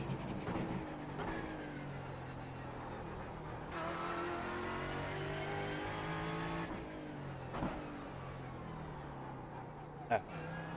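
Car engine in a racing game revving hard through a lap, rising and falling in pitch through gear changes with sharp throttle blips, close and loud, with faint tire noise.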